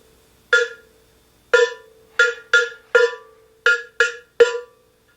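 Cowbell struck with the tip of a stick on the inside of the bell, giving a bright tone: eight sharp, separate hits in an irregular pattern, close and clear with short ringing decays.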